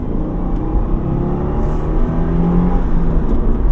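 A 2024 Subaru WRX TR with a 2.4-liter turbocharged engine accelerates hard in second gear, a loud, close, continuous engine roar with deep rumbling and steady rising drive, heard from inside the car.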